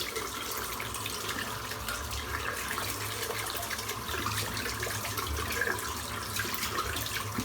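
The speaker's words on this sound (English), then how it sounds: "I'll rinse the brush out." Tap water runs steadily into a sink as a shaving brush is rinsed out, a continuous close splashing hiss with no talking.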